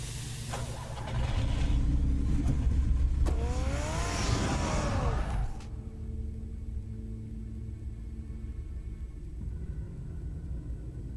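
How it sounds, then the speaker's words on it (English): A car engine rumbles and revs in the video game Batman The Telltale Series, loud and rising over the first half, then cutting off to a low steady hum, with no talk. "Get the car ready, Alfred"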